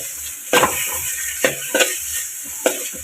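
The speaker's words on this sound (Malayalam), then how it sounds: "തക്കാളിയും വാടി വരുന്നവരെ നമ്മളിങ്ങനെ ഇളക്കിക്കൊണ്ടിരിക്കുക" Tomatoes frying in a pan for chicken curry, a low sizzle punctuated by several distinct stirring scrapes of a spoon against the pan, close and fairly loud, no talk.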